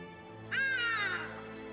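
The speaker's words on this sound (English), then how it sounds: "For a second there, you heard the sound of that bird? That's a hardy-dar," A hadeda ibis calls once in South Africa, a single harsh, nasal squawk rising abruptly and trailing off over a low background hum, with no other sounds around it.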